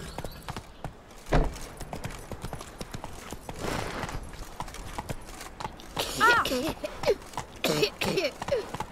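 Horse hooves clip-clopping at a trot in The Witcher 3, a steady rhythmic beat running through the whole stretch, with a rider's voice calling out and a brief whinny-like snort mixed in.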